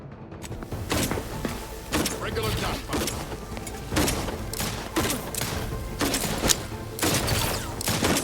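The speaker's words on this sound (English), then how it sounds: "Regular gunfire." Rapid bursts of gunfire in The Outer Worlds II, loud and close, repeating in rhythmic volleys about once a second with mechanical clanks and thuds between shots.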